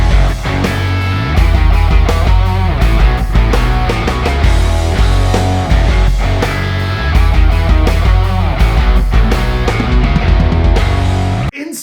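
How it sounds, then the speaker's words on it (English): A rock riff played by two guitars and a bass, loud, dense and driving, repeating in a steady groove without vocals. "The song with 2 guitars and a bass now sounds like this."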